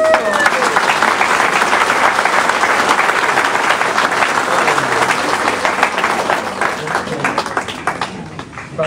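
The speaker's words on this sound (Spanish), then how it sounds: "Un aplauso." A church audience breaks into sustained applause during a Sunday service, a dense, loud wash of many hands clapping that holds steady for several seconds before starting to thin out.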